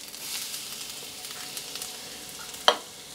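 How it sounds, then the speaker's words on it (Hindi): Chopped ginger and garlic sizzle in hot oil for chicken chilli, a soft, even frying hiss with faint stirring taps and one sharp clink near the end. "हल्का सा अदरक लहसुन को फ्राई कर लेते हैं"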